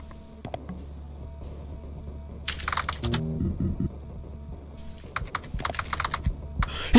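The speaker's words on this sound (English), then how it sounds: "He's typing on my PC." Keys clatter on a computer keyboard in uneven bursts of typing, close and fairly quiet, with pauses between the flurries and a faint steady hum underneath.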